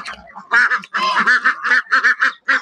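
A flock of Muscovy ducks, gathered to be fed on a farm, quacks loudly and close by in a rapid, repeated series of harsh calls.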